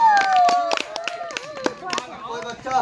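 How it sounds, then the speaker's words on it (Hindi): A group of village children at a street magic show claps in scattered bursts, quick uneven slaps under an adult's loud talking voice. "ताली बजा दो सब बच्चे।"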